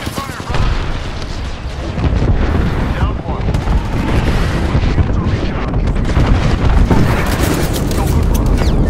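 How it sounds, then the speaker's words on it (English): A grenade explodes during a firefight in Apex Legends, a loud, close boom buried in dense, continuous rumbling combat noise and shooting that barely lets up. "Look out, grenade"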